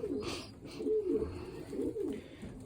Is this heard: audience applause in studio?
no